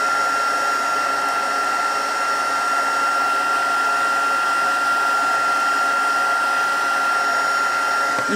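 A Stampin' Up heat embossing tool blows hot air onto card paper, a steady loud fan whir with a constant high whine, unbroken from start to finish with no talk.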